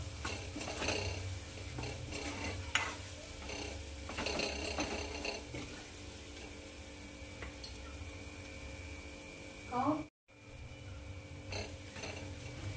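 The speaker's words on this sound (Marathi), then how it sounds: "छान याला असं परतून घ्यायचं आहे।" Whole spices for rajma masala are stirred and sautéed in a pan, giving a continuous sizzle with repeated scraping and clinking of a spoon against metal, close and steady, briefly cutting out near the end.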